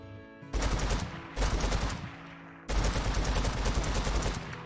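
Automatic gunfire from a gun in a video game, three loud rapid bursts of shots in close succession, separated by brief pauses, with no talking.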